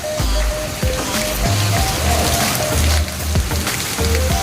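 Steady rain falls near an office, a constant dense hiss of drops with a few scattered louder taps and thuds over several seconds.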